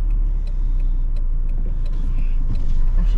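A Nissan Micra K11 hatchback drives along with a steady low engine and road rumble from inside the cabin, faint clicks over the constant hum.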